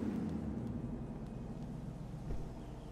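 A car driving in the GTA V video game, a low, steady engine rumble at modest level with a slight swell near the end, no voices over it.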